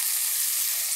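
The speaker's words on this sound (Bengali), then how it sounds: "এবার আমি ওই তেলে উচ্ছে বা করলাগুলো ভেজে নেব" Pieces of bitter gourd sizzle in hot oil with a brief, even, bright frying hiss, close and alone.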